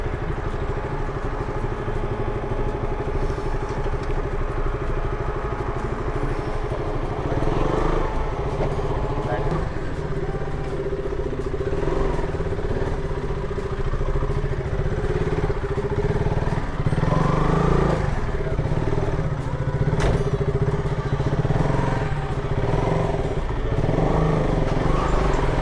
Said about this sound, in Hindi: चलो आराम से निकल जाएगी बाइक यार।